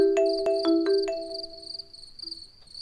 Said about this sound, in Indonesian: Kayak ada suara telepon deh.